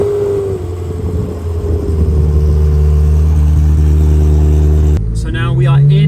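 Ferrari F355 Challenge engine starting and idling with a deep, steady mechanical drone, then a sharp rev near the end, with people talking nearby.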